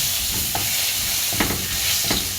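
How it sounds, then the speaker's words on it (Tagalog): Ginger and other aromatics sauté in a hot pan with steady loud sizzling, while a utensil scrapes and stirs through it a few times. "So ngayon naman po ay igigisa na natin ang ating mga aromatics"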